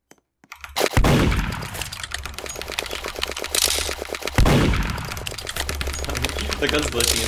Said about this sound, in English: The gun's glitching in my hands.